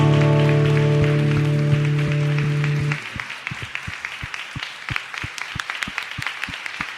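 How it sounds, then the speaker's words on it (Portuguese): An audience gives applause for Jesus at a Christian music ministry gathering, a brief rhythmic clapping heard after a sustained musical tone fades, moderately near, with a faint voice in the background. "vamos dar uma grande salva de palmas para Jesus"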